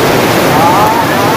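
Heavy rain pours down during lap six of a motorbike race at the Letkol Tugu Pahlawan track, a loud, dense, steady hiss with a voice talking over it.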